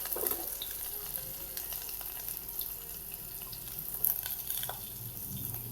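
Green chili sizzling and frying in oil in a pan while cooking Marathi-style masala rice, a steady soft crackle with faint scraping and clinking of a spoon, no talking.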